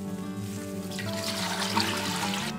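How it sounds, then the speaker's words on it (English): Water pours steadily into a cooking pot for chicken soup, a close, continuous splashing trickle that grows fuller after the first second, with no one talking. "Add 3 liter water."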